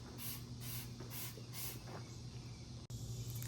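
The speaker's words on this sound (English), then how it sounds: "taking a spray and just kind of drenching the whole thing in it." Detailing spray drenching a car's front bumper panel, four short rhythmic trigger bursts of hissing mist followed by quieter spray, close and alone.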